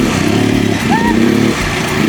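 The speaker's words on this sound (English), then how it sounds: "But what really capped this experience off is riding those ATVs" Engine of an ATV ridden along a trail in Rwanda, a steady motor drone throughout under loud talk.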